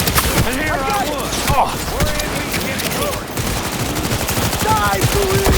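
Rapid bursts of automatic gunfire and sniper shots crack through a firefight in the video game Cyberpunk 2077, layered with shouting voices and scattered explosions that stay dense and loud throughout.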